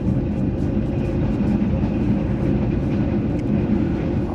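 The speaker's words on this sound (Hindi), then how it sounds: "और अच्छी स्पीड पकड़ चुकी है ट्रेन।" Pak Business Express passenger train running at speed, heard from inside as a loud, steady low rumble and roar with continuous rhythmic rattling and no pauses.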